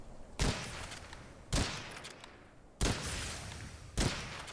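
Four heavy, evenly spaced gunshots from a weapon in Witchfire, each a sharp loud blast trailing into a long rumbling decay before the next shot.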